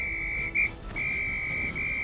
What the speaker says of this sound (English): The major began blowing a whistle.